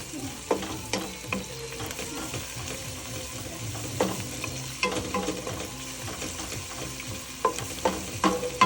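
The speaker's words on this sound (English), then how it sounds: "Garlic goes in, and that's about enough. Not too much garlic. Good stir." Garlic fries in oil with onions in a pan for an Italian Sunday sauce, a steady close sizzle broken by scraping knocks of a utensil stirring at irregular intervals, with no talking.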